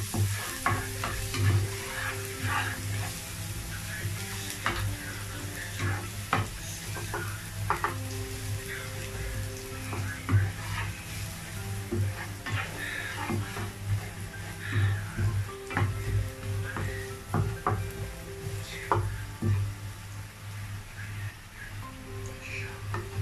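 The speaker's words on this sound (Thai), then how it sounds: "ผัดนะจ๊ะ" Bitter melon stir-fries with egg in a pan, a continuous sizzle under frequent spatula scrapes and clicks, with a steady low hum running underneath throughout.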